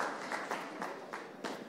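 Applause from an audience after a startup pitch session, a modest, somewhat sparse round of clapping with several distinct louder claps popping out of a softer steady patter, fairly faint overall.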